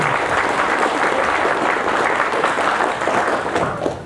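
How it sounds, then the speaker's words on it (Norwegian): Steady applause from an audience at a Norwegian choir event in Våja, dense clapping sustained throughout and fading slightly at the end. "En liten applaus og takk"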